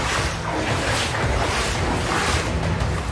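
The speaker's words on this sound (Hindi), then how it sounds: "नदियां तट तोड़कर बह रही हैं, तो कहीं उफनते नाले मौत की वजह बन रहे हैं" Floodwater from rivers bursting their banks during monsoon rains in Bundi, Rajasthan, surging with a steady, loud broadband roar and wash that holds without pause, no voices present.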